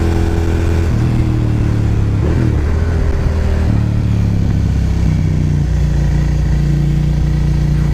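Suzuki SV650 motorcycle engine while riding, a bigger-displacement V-twin with a mellow character: a loud, steady engine drone close by, with its pitch rising and falling as the rider changes throttle, continuous for the whole stretch.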